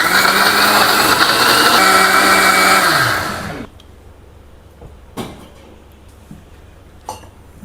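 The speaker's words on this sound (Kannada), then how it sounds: "ಈಗ ಮಿಕ್ಸಿಗೆ ಹಾಕಿ ಒಂದು ನುಣ್ಣಗೆ ಹುರಿವ" A kitchen mixer grinder whirs loudly, grinding onion gojju to a fine paste. The motor drone winds down after about three seconds, followed by quiet handling clicks and knocks as the jar is moved.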